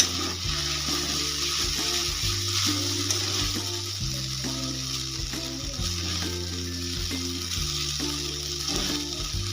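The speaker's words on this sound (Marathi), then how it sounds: "छान फ्राय झालेले आहे मॅगी" Egg Maggi noodles fry in a pan, giving a steady close sizzle throughout with faint stirring scrapes and light clicks, and no one speaks.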